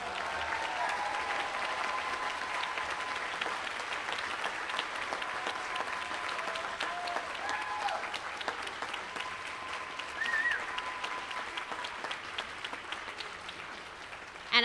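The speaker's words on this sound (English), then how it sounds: "I'm going to take a pause and allow some applause for those who are standing." Sustained, even applause fills a hall for the School of Medicine Class of 2022 at an NYMC awards ceremony. The crowd's clapping continues steadily for the whole stretch without a break.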